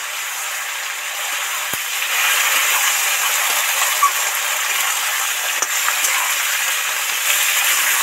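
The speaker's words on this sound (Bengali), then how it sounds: "এবার কচু, আলু, বেগুন, টমেটোটা তেলের মধ্যে উঠিয়ে দেব" Pieces of taro, potato, eggplant and tomato deep-fry in hot oil, giving a continuous close hissing sizzle with a faint clink partway through and no speech.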